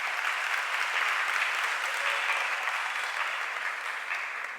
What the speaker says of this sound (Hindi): आपकी तालियां समर्थन है इस बात का।